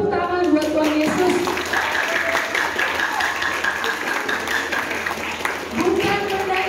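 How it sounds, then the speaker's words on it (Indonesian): Church audience clapping for Jesus during a Christmas lesson, a dense run of applause lasting several seconds with voices mixed in. "Tepuk tangan buat Tuhan Yesus."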